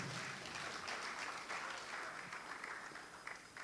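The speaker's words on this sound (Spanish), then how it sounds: "Dale un aplauso a él" Congregation applauding during a bilingual Spanish-Portuguese church service, a steady wash of clapping held at moderate level for the whole stretch and tapering slightly toward the end.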